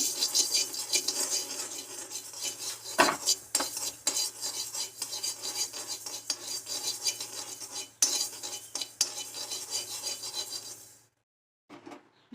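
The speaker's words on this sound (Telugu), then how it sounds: "ఇప్పుడు పొయ్యి మీద కడాయి పెట్టుకొని ఒక టేబుల్ స్పూను ఆవాలు హాఫ్ టేబుల్ స్పూన్ మెంతులు వేసి బాగా వేయించుకోవాలి" Mustard seeds and fenugreek dry-roasting in a kadai on the stove, with a steady scraping and rattling of a spoon stirring the seeds for about eleven seconds before stopping abruptly.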